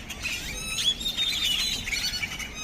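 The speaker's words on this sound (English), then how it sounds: "this one tree has all the birds." Many birds in a single tree in a parking lot squeal and chirp together in a dense, continuous chorus at moderate distance, with no talking.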